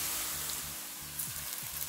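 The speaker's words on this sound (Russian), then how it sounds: "В масле немного обжариваем морковь." Carrots sizzle softly and steadily in hot oil, a quiet continuous frying hiss with occasional faint stirring.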